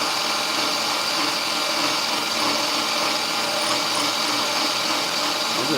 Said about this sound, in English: A little hammer drill action on it.